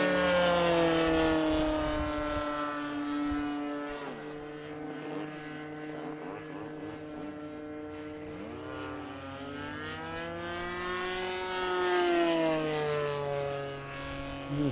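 A Great Planes Ultra Stick RC airplane with an OS GT 15 gas engine comes in to land, its buzzing propeller drone moderately near and shifting pitch as the throttle drops and rises.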